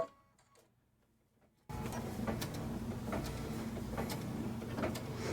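After a near-silent moment, an embroidery machine stitching an in-the-hoop mini notebook cover starts up abruptly. It settles into a steady, close mechanical whir with repeated ticking needle strikes.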